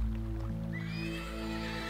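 A horse in the Western video game Desperados: Wanted Dead or Alive lets out a rising, drawn-out whinny midway through, over a steady low game hum with faint background layers.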